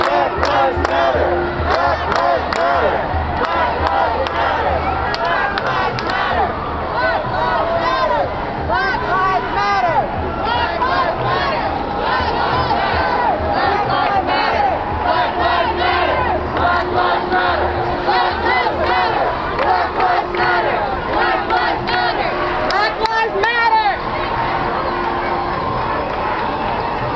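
A large protest crowd at Union Square in New York City chants loudly and continuously, many voices rising and falling together with shouts and babble throughout.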